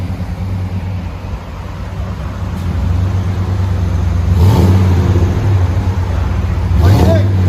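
A 1998 Chevy Silverado 1500 with a 5.7L V8 and a dual-in, single-out 14-inch Magnaflow exhaust idles with a deep steady rumble, then revs twice in rising, swelling bursts, loud and close.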